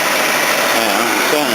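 A Datsun car engine with a blowing head gasket runs at a steady, loud idle, a continuous broadband roar with a faint irregular puffing texture underneath and no pauses.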